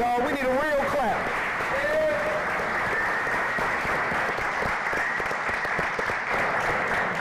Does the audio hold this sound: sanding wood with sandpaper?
no